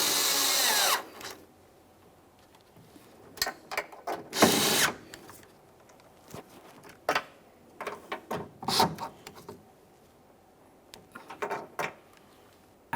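A power tool snugging up the mirror mounting bolts on a 2015-2019 Subaru Outback, a loud opening whir followed by a string of short bursts and clicks separated by quiet pauses.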